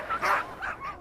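Sled dogs give a quick burst of close yips and short barks mixed with whimpering, several sharp calls packed into about a second.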